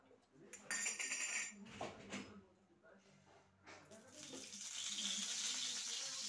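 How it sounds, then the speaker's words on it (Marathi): Oil is brushed onto a heated appe pan, with metallic clinks and scraping followed by a rising spatter and sizzle as wet bristles meet the hot metal, under a woman's speech. "आपण भांड्याला आता तेल लावून घेणार आहे"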